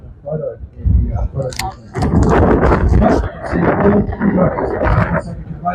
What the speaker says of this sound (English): Those gusts are starting to get really heavy.